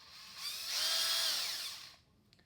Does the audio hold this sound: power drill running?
yes